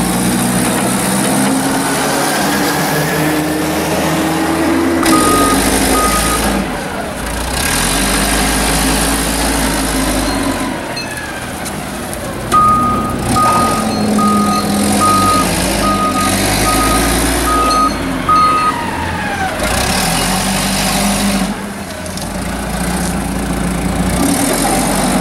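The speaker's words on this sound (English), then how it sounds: "The gentleman on the forklift's name is Jose, and he's obviously done this a time or two" A forklift engine idles and revs loudly while unloading a rail car at a BNSF switching site in Las Cruces, New Mexico, with two runs of steady, evenly spaced reversing beeps over continuous mechanical rumble.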